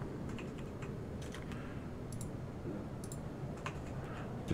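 Steady keyboard typing on a computer while setting fuel and weight in a Microsoft Flight Simulator Su-27 Flanker, with quick clicking keystrokes over a constant low hum, no talking.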